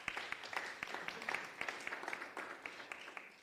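Audience at a campus community safety forum launch clapping for speakers, a faint, thin patter of scattered hand claps from a modest crowd, heard from a distance.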